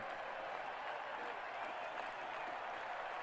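A baseball video game crowd applauds and cheers in a steady, dense wash of clapping and crowd noise that holds at an even level from start to finish.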